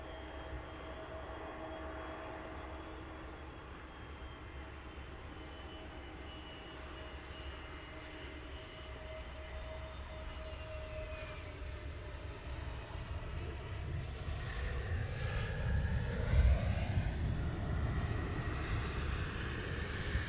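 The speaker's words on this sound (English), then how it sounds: "have an EasyJet coming in." An EasyJet airliner approaching Luton Airport in low fog: a steady, distant jet roar that slowly swells and deepens as it draws nearer, with a faint whine sliding in pitch toward the end, no talking.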